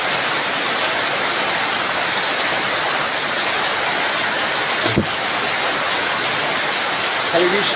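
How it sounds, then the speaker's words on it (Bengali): Heavy rain pours down in a dense, constant roar of drops on surfaces, loud and close, with a faint voice under it. "দেখেন কত সুন্দর বৃষ্টি হচ্ছে, রহমতের বৃষ্টি।"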